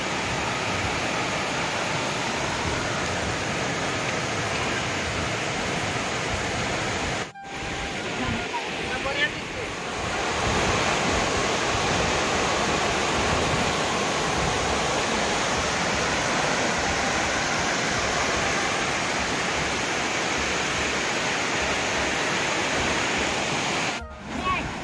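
Broadband rushing water from a waterfall, steady and loud throughout with a brief dip partway, heard at a picnic outing spot.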